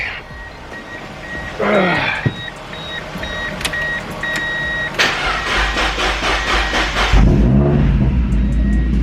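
A Mazda Miata NB with a probably weak battery cranks with rapid rhythmic pulses, then catches and fires into a loud, rough idle close by, after a few scattered clicks and some brief talk early on.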